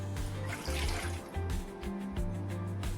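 Water is poured into a cooking pot of jackfruit over a fire, making an uneven splashing, gurgling pour for a few seconds with no speech.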